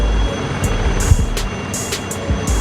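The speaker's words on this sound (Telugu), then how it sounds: "ఇక్కడైతే ఒక హెలికాప్టర్ అప్పటి నుంచి నాయిస్ చాలా ఉందన్నమాట" A helicopter at an aerospace museum makes a steady low engine and rotor drone in the background, with brief higher bursts of noise breaking through, and no one speaking.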